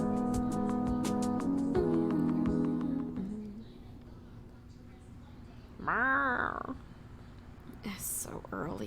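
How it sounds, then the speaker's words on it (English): In the video game Hustle Cat, a cat gives a single clear, rising-and-falling meow partway through, with a person speaking before it and a brief sound after. "Cat noises."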